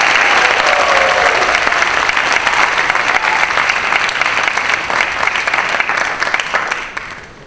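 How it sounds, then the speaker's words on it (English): A high school spring band concert audience gives loud, sustained applause for the student conductors, dense clapping that tapers off and fades at the end. "How about another round of applause for our student conductors,"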